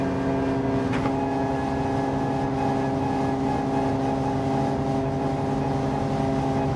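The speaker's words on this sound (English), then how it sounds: "Car sounds electric." A steady electric whine with a constant tonal hum from an electric car in a racing video game drones continuously at even loudness, with no revving or gear changes.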